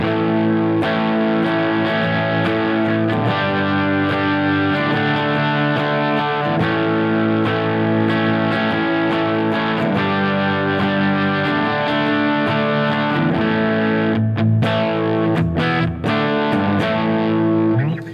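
Heavily distorted electric guitar chords through a Line 6 Helix multi-effects patch ring out continuously with layered effects, loud and sustained, with brief choppy breaks near the end and no talking.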